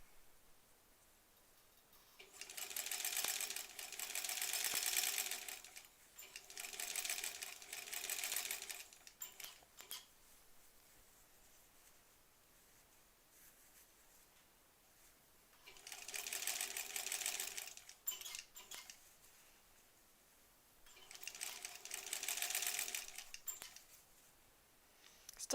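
Sewing machine stitching a granny squares quilt, running in four fast whirring bursts of a few seconds each with quiet pauses between, near and steady.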